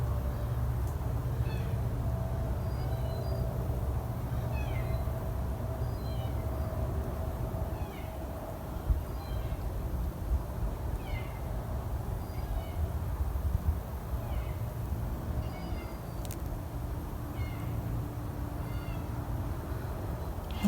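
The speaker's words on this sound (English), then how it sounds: "Cross between squeaking and a cat's meow." Faint, repeated squeaky meow-like calls drift over a steady low rumble in a park at night, a handful of short high chirps spaced out across the stretch with no one talking.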